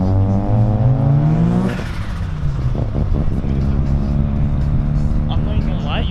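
A turbocharged Mazda RX-7 rotary engine revs loudly at close range, a dense buzzing drone whose pitch climbs and shifts, then settles into a steady high idle.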